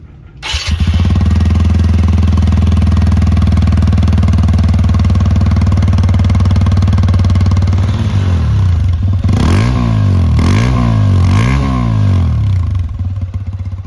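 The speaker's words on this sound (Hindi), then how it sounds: "TVS Apache RTR 160 का एग्जॉस्ट साउंड।" A TVS Apache RTR 160 2V motorcycle engine starts up and settles into a loud, steady idle, then the exhaust revs sharply three times in quick succession near the end.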